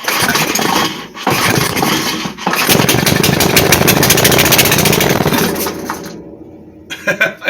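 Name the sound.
5hp Briggs and Stratton engine starting and running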